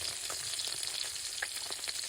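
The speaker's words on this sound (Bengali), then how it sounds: "এই যে চিংড়ি মাছ ভাজা হয়ে গেছে" Shrimp frying in a pan, a steady broadband sizzle with scattered crackles and pops running throughout, close and fairly loud with no talking.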